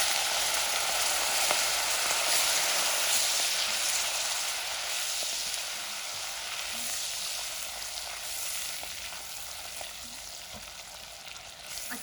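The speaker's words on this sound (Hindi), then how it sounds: "अच्छे से हम मशरूम को इसमें फ्राई करेंगे" Sliced mushrooms fry with garlic in a pan, giving a dense, steady hiss of sizzling close up, with faint occasional stirring ticks and no talking.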